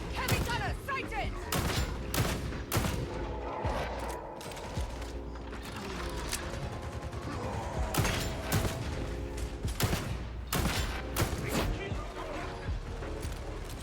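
Revolver shots and other gunfire in a video game, sharp repeated bursts scattered through a busy battle mix with mechanical clicks and game voices talking over them.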